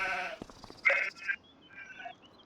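Sheep and goats bleating in the Farming Simulator 25 farm area, several short nasal calls spread across a couple of seconds, fairly close, with quiet pauses between them.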